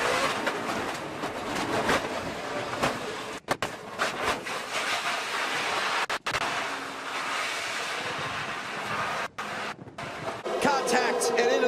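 NASCAR race cars roar at speed during a crash replay, a continuous loud engine and track rush with brief dropouts, under an excited commentator's voice.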